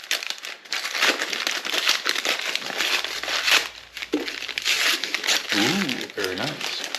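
Paper wrapping crinkles and tears steadily as it is pulled off a new chisel with a protective trim, close and continuous for several seconds, with a brief voice near the end.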